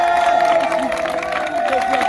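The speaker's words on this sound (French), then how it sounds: "J'aimerais qu'on acclame fortement le Seigneur." A crowd at an evangelical crusade in Daloa cheers and acclaims the Lord, a dense sustained roar of many voices and shouts that holds steady throughout.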